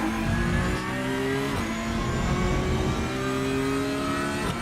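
Porsche Cup race car in a racing simulator, engine revving hard through repeated rising shifts with a brief lift near the middle, loud and continuous without talk.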